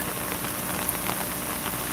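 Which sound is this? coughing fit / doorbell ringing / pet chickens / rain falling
rain falling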